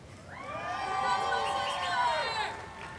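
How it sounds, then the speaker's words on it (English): A commencement ceremony crowd cheers and shouts in a steady, moderately distant swell that holds for a few seconds and then fades slightly. "Yeah, we can cheer for her."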